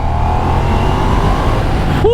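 A Ducati Diavel V4 motorcycle engine accelerating hard, a close, sustained roar that holds steady throughout with a rising tone near the end.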